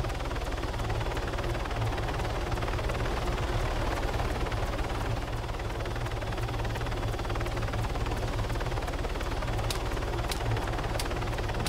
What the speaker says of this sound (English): there's a helicopter in spawn waiting